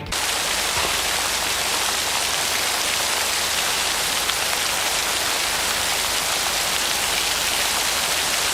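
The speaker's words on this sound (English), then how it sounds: "I just love seeing a black screen with the sound of rain" Steady, dense rain pouring down, a continuous hiss of drops hitting surfaces, close and loud with no voices.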